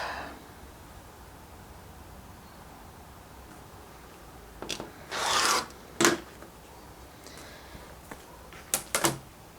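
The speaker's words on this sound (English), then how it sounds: "I'm going to cut this at 3, set that aside, trim it up." Fabric being cut and trimmed with a rotary cutter makes a few short rasping swipes and rubs, close, against a quiet background.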